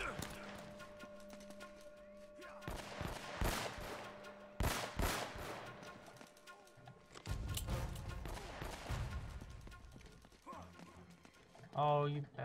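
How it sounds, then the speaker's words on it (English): Heavy shotgun blasts from the game Uncharted: Drake's Fortune boom out in separate sharp bursts among scattered shots and action noise, with a person talking in between. "What kind of freaking shotgun is that?"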